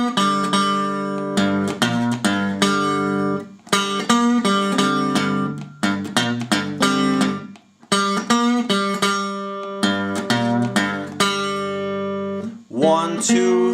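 An acoustic guitar plays a blues riff, loud and close, with groups of plucked notes and ringing strums separated by short pauses, repeated several times alone without talk.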